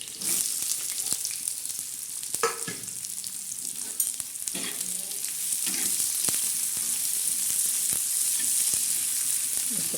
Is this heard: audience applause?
no